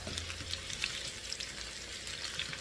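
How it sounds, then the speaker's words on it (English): Onions frying in hot oil in a pan, giving a steady, soft crackling sizzle with scattered tiny pops, heard alone at low level. "My pan is sizzling, so I'm going to turn it down to medium."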